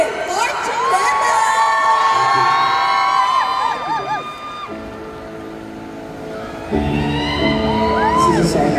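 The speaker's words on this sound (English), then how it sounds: "let's give a round of applause" A loud crowd at a live concert in a mall cheers and whoops with high-pitched shouts and screams, dipping briefly before another burst of excited cheering.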